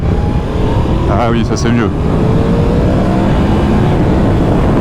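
A 2022 Yamaha MT-10 motorcycle engine runs steadily with a brief rise in revs, under someone speaking briefly.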